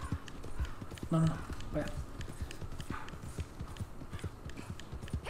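Horse hooves clip-clop steadily on the ground in the online Western game Red Dead Online, a rapid rhythmic beat running the whole time under close, excited voices.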